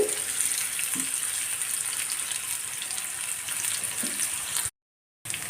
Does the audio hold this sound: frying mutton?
yes